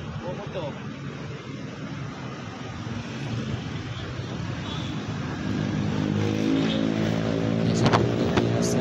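A Simpati-Star Volvo bus on a busy road at night, its engine a steady low rumble that swells louder in the second half as it passes, with a voice talking over it.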